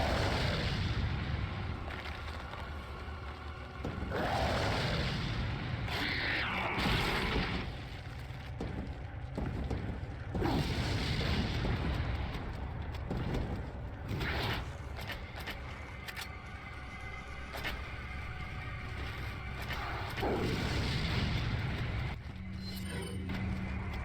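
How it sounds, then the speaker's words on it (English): An explosive barrel and incendiary grenades go off in Resident Evil 4, sustained dense booming and roaring fire with rumbling bursts over a long stretch, loud and continuous. "with a combination of the explosive barrel and 4 incendiaries"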